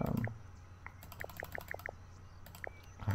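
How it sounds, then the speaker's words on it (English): Computer mouse clicks during a Zoo Tycoon 2 game session, a quick run of light, crisp clicks in a short burst with a few scattered single clicks around it, close and fairly faint. "clicking isn't too loud."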